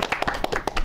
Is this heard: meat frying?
no